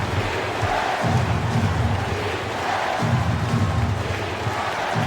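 An arena crowd roars and cheers in an NBA Live 07 basketball game, Pacers at Bulls, a steady swelling din that surges in waves, loud and filling the space throughout.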